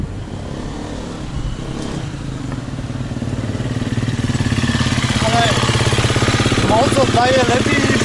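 A 2020 Husqvarna motorcycle engine runs steadily and loudly up close, its rumble building slightly over time, with faint voices murmuring in the background.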